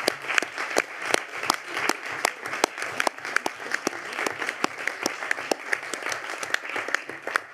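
Sustained applause at a municipal council meeting, steady rhythmic clapping from a room of people with sharp individual claps standing out, continuing throughout.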